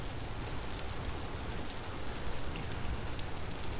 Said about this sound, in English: But it's a rainy day.